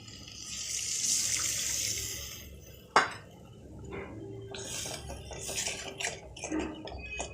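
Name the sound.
pouring saved egg-poaching water into curry pan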